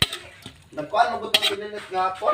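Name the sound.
cooked kangkong transferred from pot into bowl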